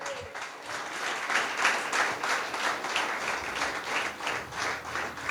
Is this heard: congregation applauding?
yes